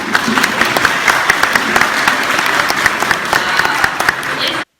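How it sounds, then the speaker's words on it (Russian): Audience applause from a crowd at a public meeting or talk show, a steady, dense wash of clapping that carries on evenly for about four and a half seconds before cutting off. "по аплодисментам молодого человека поддержала вся аудитория"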